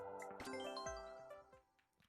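A chiming notification jingle plays over Mario Kart 8 Deluxe on Nintendo Switch, with bright ringing tones and a falling swoop, faint and short amid the game's sounds.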